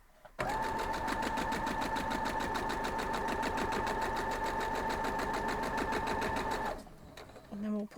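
A sewing machine stitches a quilt block in a steady, fast mechanical whir that runs for about six seconds, close and loud, then stops abruptly, followed by brief handling noise.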